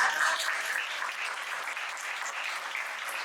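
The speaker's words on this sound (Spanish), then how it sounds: "Le damos una aplauso." An audience claps steadily in a dense, even wash of applause that stays at a moderate level throughout.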